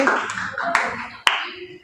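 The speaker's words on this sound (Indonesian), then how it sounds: "tepuk tangan untuk Hana" In a classroom, students give a short burst of applause for a classmate. It is a brief scatter of claps with a couple of sharp, distinct hand slaps near the end, and light murmuring underneath.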